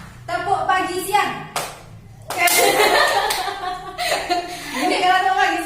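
Clapping bursts from a classroom doing a rhythmic clap game led by a teacher, short sharp clusters of claps alternating with the teacher's voice and children's giggling.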